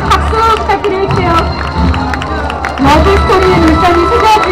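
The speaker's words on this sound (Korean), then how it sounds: "여러분 박수 부탁드릴게요." Crowd cheering and applauding during a flower-presentation ceremony at a rose festival in Ulsan Grand Park, a loud, continuous wash of claps, shouts and babble with speech-like tones throughout.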